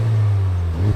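A brief, loud, close engine rev from a 2024 Ford Mustang Dark Horse, a deep steady mechanical drone with a small pop at the end.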